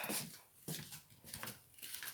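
Small pet dog whimpering and snuffling nearby, a few soft whines and breathy sounds over about two seconds in a quiet room.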